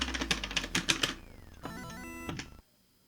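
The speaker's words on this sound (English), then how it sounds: "I'm just pressing random buttons on my keyboard at this point, and nothing's happening." Keys on a computer keyboard are pressed at random, giving a quick run of sharp clicks followed by steady electronic tones from the Pole Position II arcade game, then silence.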